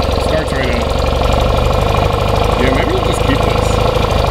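A 1982 BMW R65LS motorcycle engine runs steadily after starting, a loud continuous throb with a low rhythmic pulse throughout, while people talk over it.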